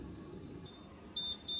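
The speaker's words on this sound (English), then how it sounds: "So that's the timer gone off for the rice." Kitchen timer sounding off for cooking rice. Two short, high electronic beeps near the end, heard over low kitchen background noise.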